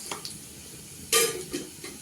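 Finely chopped garlic, added with cumin, sizzles in a hot pan as a spoon stirs it, with a sharp scrape and crackle partway through and a few softer clinks.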